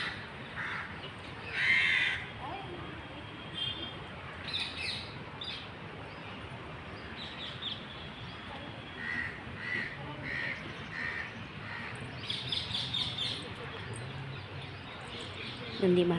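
Outside a temple, crows caw loudly at intervals while smaller birds chirp faintly, with distant voices and crowd murmur underneath.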